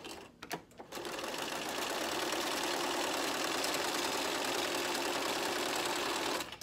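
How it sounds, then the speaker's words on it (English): A sewing machine runs steadily for several seconds stitching boxing pieces of barstool upholstery, a constant close mechanical whir after a few brief starts and handling noises, stopping at the end. "then sew straight down 90 degrees to that pin"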